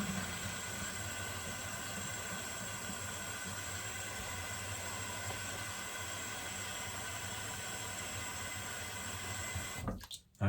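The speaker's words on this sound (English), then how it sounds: "you want to fill the bucket with warm water" Water runs steadily from a tap into a bucket, filling it with warm water for washing a 3M respirator mask; a continuous, even rushing that holds for several seconds before a brief clatter and cutoff at the end.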